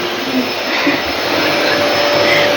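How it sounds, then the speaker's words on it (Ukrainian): A vacuum cleaner runs steadily and loudly at close range during household cleaning by children, a constant whooshing roar throughout with no clear talk. "Так, Рома з пилососом, Наталя з шваброю."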